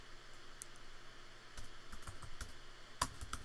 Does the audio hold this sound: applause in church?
no